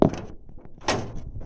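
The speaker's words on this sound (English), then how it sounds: "I should probably grease that door." A door on a 1973 Mustang clunks sharply at the start, followed by a brief quiet scrape and then a second louder swinging thud, all close and loud.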